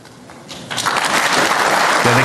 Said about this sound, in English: they clap because it says world needs change.